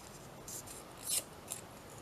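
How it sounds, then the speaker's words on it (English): Scissors snip through small pieces of paper during a simple craft project, with a few short cuts spread across about two seconds, the sharpest one near the middle, each close and crisp against quiet room hiss. "and I cut them out, and then cut quite close to the end"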